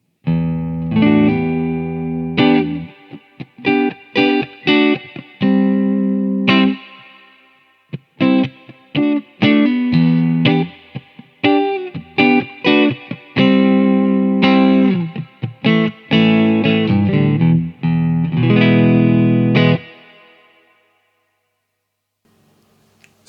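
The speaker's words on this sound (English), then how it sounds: "you can hear there's quite a long tail on that reverb" An electric Stratocaster played through a Victory DP40 amplifier with reverb at halfway, a run of picked notes and chords with short gaps, ending on a note whose reverb tail fades out slowly into quiet.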